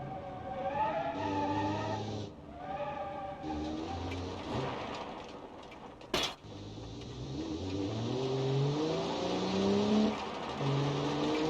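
Inline-six car engine in the BeamNG driving game, revving up through several gears with rising whines and short dips at each shift, loud and close, plus one sharp clunk midway.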